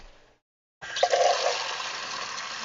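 Water gushes steadily into a worm tank after a short silence, a close, continuous pouring rush that holds at an even level.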